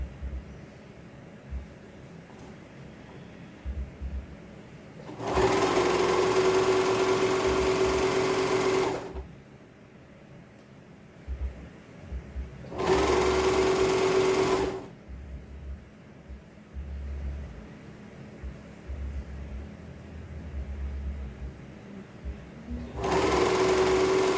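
A serger sewing an elastic waistband channel whirs loudly in three bursts of several seconds each, separated by quieter gaps of handling and fabric movement.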